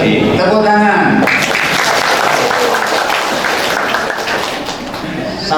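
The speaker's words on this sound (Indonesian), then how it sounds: "Tepuk tangan." Applause from a gathered crowd at a Ramadan dawn lecture and charity event, breaking out loud after a stretch of voice and continuing as steady dense clapping for several seconds.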